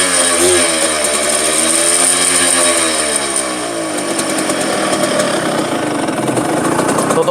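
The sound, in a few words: Suzuki A100 motorcycle engine running smoothly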